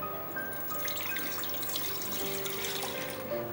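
About three cups of water pour into a heavy-bottomed pot on the stove for semiya ragi payasam, a close, steady trickling splash with a few drips.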